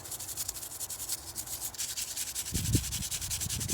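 A brush scrubs grimy threads on a bicycle derailleur hanger during cleaning, a steady close rasping with a few heavier strokes toward the end and no talking.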